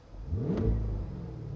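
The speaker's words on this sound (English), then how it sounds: "Here's engine sound. We'll change to Sport." A 2023 Cadillac Escalade V engine in Sport mode gives a single brief rev, a deep rumbling swell that rises and fades, heard from inside the cabin.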